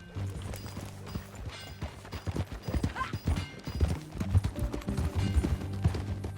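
Horse hooves clip-clopping at a trot in Red Dead Redemption 2, starting quietly and growing louder and more rhythmic, with faint background music underneath.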